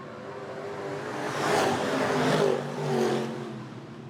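Hobby stock race cars roll toward the start of an eight-lap heat race at Potomac Speedway, a broad engine roar swelling in waves as the pack passes, with no talk over it.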